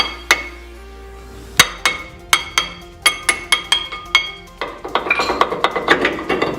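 Metallic hammer blows strike the rear brake rotor of a Mazda Miata drift car, sharp ringing hits, first spaced apart, then coming quicker in a steady run, with clattering at the end.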